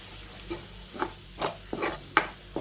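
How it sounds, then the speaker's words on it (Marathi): A spoon working through spiced chicken masala with chilli powder for chicken biryani, giving soft scraping, squelching strokes about every half second with a faint sizzle underneath. "इथं मी तिखट पण घातलेलं आहे आणि हे सर्व आपल्याला एकत्र करून घ्यायचं आहे"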